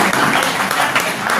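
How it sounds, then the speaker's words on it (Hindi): Steady applause from a crowd at a half-marathon award ceremony in Dehradun, a dense continuous clatter of clapping hands filling the whole short moment with no pauses. "एक बार जोरदार तालियां।"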